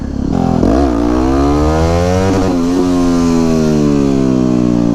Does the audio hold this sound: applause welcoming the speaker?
no